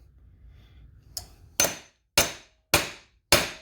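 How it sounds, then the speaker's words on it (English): Four sharp hammer strikes land on a 1 oz silver bar in a steady rhythm after a quieter tap, each a loud, ringing clang that decays quickly. "Had to hit it with the hammer."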